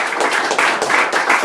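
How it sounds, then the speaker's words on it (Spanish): Church congregation applauding during a worship service, a dense, loud wash of clapping heard close and continuous for its brief length, with no clear speech. "Denle un aplauso al Señor."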